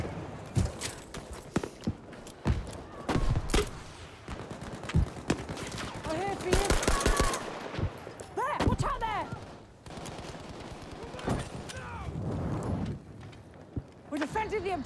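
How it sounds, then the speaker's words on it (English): Machine gun fire in a Battlefield V multiplayer conquest round, bursts of gunshots crackling throughout amid battlefield chaos, with voices calling out over the fighting. "That's a machine gun!"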